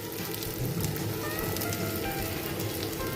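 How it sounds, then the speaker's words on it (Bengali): Kebab patties frying in hot oil, a steady dense crackling sizzle that holds at an even level throughout, close and continuous with no talk over it. "জাস্ট এরকম নিয়ে চ্যাপটা করে করে গরম তেলের মধ্যে দিয়ে দিই।"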